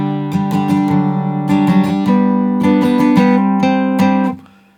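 An acoustic guitar in standard tuning plays the two-bar intro of a song. Close, loud plucked notes fall in short rhythmic bursts over ringing low strings and fade out at the end.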